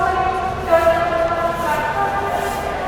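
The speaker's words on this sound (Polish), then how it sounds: "Ale zaraz chyba jakiś pociąg odjeżdża, bo bardzo dużo ludzi biegnie." Crowded train departing at Dhaka station in Bangladesh, with a sustained tonal horn and rumbling rail noise amid station bustle and crowd murmur.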